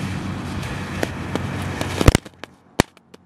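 Firecrackers set off inside a toy tank fire a close, loud crackle of many sharp pops, swelling to a dense burst of blasts and then a few scattered, isolated bangs.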